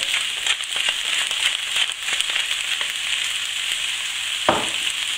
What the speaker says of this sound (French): Je laisse à feu doux colorer les légumes.